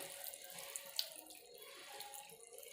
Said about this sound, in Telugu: సో ఆ నీళ్ళు ఇప్పుడు మనం యాడ్ చేసుకుందాం.